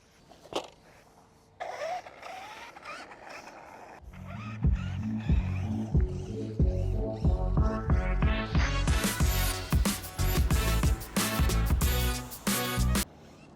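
Two-wheel-drive Traxxas Rustler RC truck stuck in grass ruts, its electric motor whining up in pitch in repeated bursts as the wheels spin, close and loud, after a few quieter knocks.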